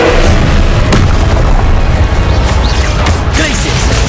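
Booming spell impacts and crashing blasts in the video game Hogwarts Legacy, loud and continuous, with sustained rumbling and dense combat noise throughout.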